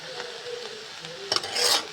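A spoon stirs grated coconut through a dish in a pan, soft scraping and sizzling throughout, with a louder burst of utensil scrapes and clinks near the end.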